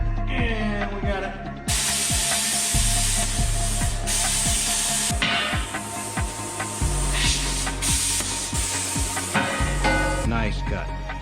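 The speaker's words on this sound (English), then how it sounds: "Just a little bit of grind in here to get the sharp edge off." A power grinder loudly takes the sharp edge off a freshly cut piece, a harsh, continuous grinding roar with steady buzzing tones that shifts in pitch as the tool bears down.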